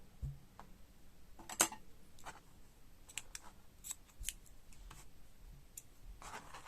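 Scissors snip through blue crochet yarn in a quiet room, a few soft, brief clicks spread out over a faint background hiss.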